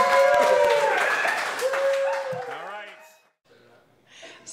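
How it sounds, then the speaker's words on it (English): A small live audience at a company headquarters grand-opening podcast event claps briefly while voices call out and cheer over it. The applause thins out after a second or two, leaving scattered vocal sounds and then near-quiet. "Give him a big round of applause."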